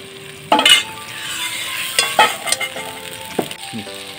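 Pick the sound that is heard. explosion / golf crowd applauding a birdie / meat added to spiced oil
meat added to spiced oil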